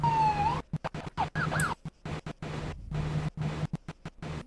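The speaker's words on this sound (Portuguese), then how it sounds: "Vamos lá, a primeira sirene seria essa daqui." Police siren from the ARMA 3 Altis Life video game: a wailing, sweeping electronic siren at steady loudness, broken up by repeated abrupt dropouts and stutters, with no talk over it.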